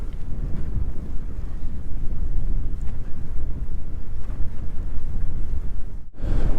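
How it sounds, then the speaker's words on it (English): Strong wind roars and buffets the microphone in a steady, heavy rumble while cycling, briefly dropping out near the end before returning; no voices. "The wind is incredible. It's so windy."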